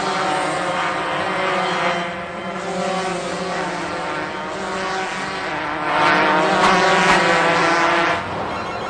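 Go-kart engines drone steadily in a sustained buzzing whine that swells and recedes slightly as the karts race past, with no talk over it.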